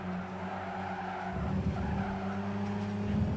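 Race car tires skidding sideways in Gran Turismo 5, a sustained squeal over a steady engine drone that grows rougher and louder after the first second and runs continuously to the end.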